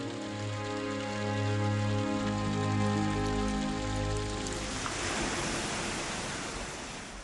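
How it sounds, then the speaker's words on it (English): Running water flows in a palace garden as a steady, dense wash that continues throughout, with a low sustained tonal drone beneath it at first that fades away partway through. "the sound of running water could be heard"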